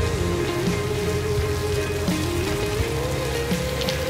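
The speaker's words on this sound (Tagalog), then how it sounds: "Tagal tumila ng ulan." Steady rain falling in a continuous wash, close and even throughout with no voices.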